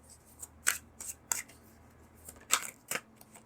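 Tarot cards are shuffled and drawn, heard as a handful of sharp, close papery riffles and snaps spaced irregularly over a quiet background, with no talking.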